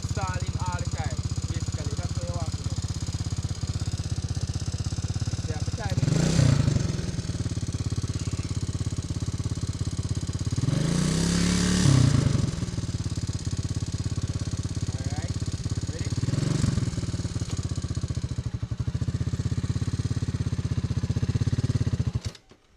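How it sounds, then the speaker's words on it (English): A motorcycle engine running steadily for the whole stretch, a continuous mid-pitched drone with a few brief revs, as people talk over it outdoors. "Start the bike again"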